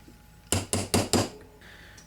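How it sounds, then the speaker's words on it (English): A hammer taps a pin into an Ithaca M49R rifle, four sharp metallic strikes in quick, even succession, close and clear, followed by a faint clink. "get it started with your hammer, and then flush it up"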